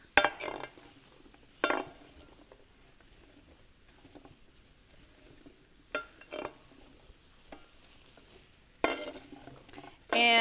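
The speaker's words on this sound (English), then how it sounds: "you're literally just going to throw everything in here and let it saute" Zucchini, broccoli and mushrooms cooking over medium heat in a pan, with a few short bursts of spatula stirring and clinking against the pan separated by quieter stretches of low background cooking noise.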